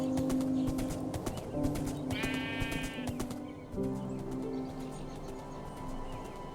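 Horse hooves clip-clop in the Minecraft video game, a steady run of light tapping steps alongside bleating sheep and a brief high chime in a village setting.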